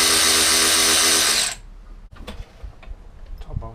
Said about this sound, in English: Next job is to remove the brake caliper.